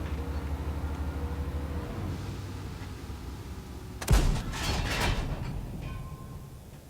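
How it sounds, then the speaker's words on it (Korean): In the video game World of Tanks, a low tank engine rumble idles, then one loud, sharp blast from a 140mm tank gun bursts out and rumbles away. "그리고 140mm 한 발 쏴볼게요"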